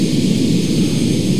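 In the ARMA 3 video game, an FA-18X fighter jet descends to land with a steady, loud, broadband engine roar and a low rumble that holds constant throughout, with no voices.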